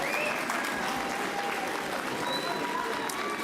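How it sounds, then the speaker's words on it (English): Applause from the audience at a city council meeting, a steady, dense wash of clapping from many hands that carries on evenly for the whole stretch with no voices over it. "that's hard not to clap."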